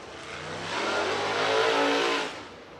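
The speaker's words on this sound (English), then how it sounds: "Dirt Draft Hot Lap Session number 6. First driver out there on the speedway." Dirt race cars heading onto the Talladega Short Track speedway for hot laps, engines swelling as they pass close and loud, then fading away.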